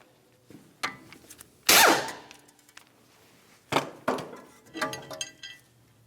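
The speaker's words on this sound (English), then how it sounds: "you have a T40 torque screw holding the rotor to the wheel bearing. We'll remove that and the rotor" A T40 Torx screw is worked loose from the brake rotor of a 2009-2019 Ford Flex, with close metallic clicks, scrapes and a few sharp ratcheting or tool bursts scattered irregularly across the clip.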